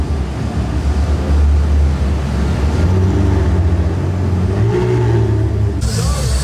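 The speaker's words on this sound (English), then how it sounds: "We got a Shelby GT350 rolling in as well, who also did not get a spot in the show, unfortunately." Ford Shelby GT350 sports car rolling in at a supercar show, a steady low engine rumble throughout with slight revving swells, close and fairly loud over outdoor crowd noise.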